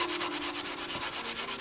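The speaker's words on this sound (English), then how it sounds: "Sanding block is your best friend when you're doing this." A sanding block rubs back and forth across a motorcycle fairing in quick, even strokes, a close, steady scratchy rasp repeating about every tenth of a second with no voices.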